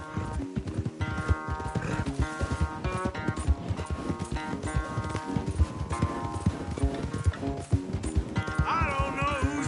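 Horses gallop hard in a race in Red Dead Redemption 2, rapid clip-clopping hoofbeats driving throughout with game music and occasional snorts layered on top.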